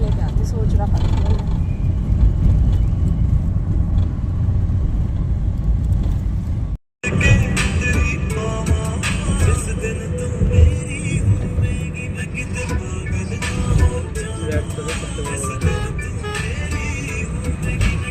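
Car interior on the move, a steady low engine and road rumble throughout, with a brief cut partway through and people talking over it.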